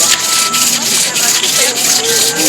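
A wooden bowl is sanded by hand at a medieval-themed festival, a loud, close, rhythmic scraping rub repeating about three times a second with no pause.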